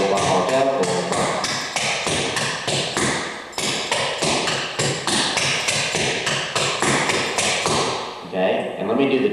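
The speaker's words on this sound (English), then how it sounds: "So again, your Canadian doubles, double, ball, double, ball, double, ball." Clogging feet beat out Canadian double steps on a hard floor, a loud, fast run of crisp taps and thumps in a steady repeating rhythm, close by with no voice over them.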